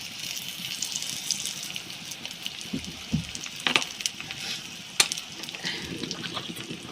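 Ground spice paste goes into hot oil with sliced okra, giving a brisk crackling sizzle with scattered sharp pops and spatters, moderately close and steady throughout.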